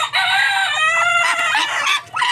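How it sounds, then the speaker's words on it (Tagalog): A single loud, close rooster crow rings out from a large chicken kept among farm poultry, a drawn-out call that cuts off briefly and then resumes. "Maraming malalaking manok at pato sa ilalim."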